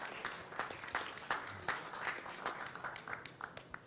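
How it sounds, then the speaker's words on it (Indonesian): A crowd at a football press event in Indonesia gives a short round of clapping for Argentina, a fairly quiet but steady patter of many hands that holds briefly at an even level. "Tepuk tangan buat Argentina."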